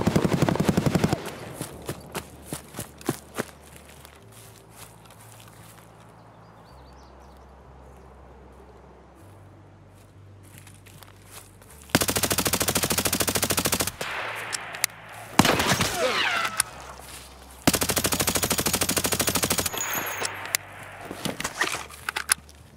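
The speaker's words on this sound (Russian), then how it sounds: "я услышал стрельбу на трейлерном парке недалеко от ямы" Gunfire in Escape from Tarkov near a trailer park, with scattered shots at first, then long loud bursts of automatic fire after a quieter stretch of footsteps and movement.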